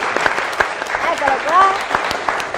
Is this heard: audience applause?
yes